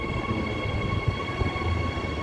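A Transperth electric multiple unit train, EMUs 123 and 97, pulls out of platform 2 at Currambine station on a Clarkson service, a steady low rumble with a faint whine, close and continuous.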